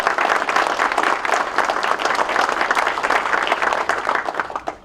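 Steady audience applause at a fall meeting of golf association assistants, dense clapping holding at an even level for about five seconds with no talk over it.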